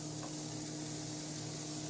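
Shredded Gouda and sharp cheddar cheese hitting a hot pan, a steady soft sizzle and hiss that runs evenly throughout with no voices.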